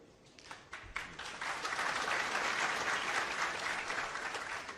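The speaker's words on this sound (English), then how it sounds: "I listened to that applause here" Audience applause at a leaders' summit in Islamabad, starting with a few scattered claps that swell within a second into a full, sustained ovation before easing slightly.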